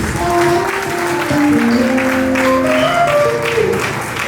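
An audience at a graduation ceremony in Quebec City claps and cheers, loud sustained applause with whoops and ringing vocal calls rising over it throughout.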